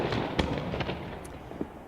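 A graduation fireworks show being live streamed, with dense crackling bursts and booms going off continuously amid a steady rumbling wash of noise, several sharper pops standing out.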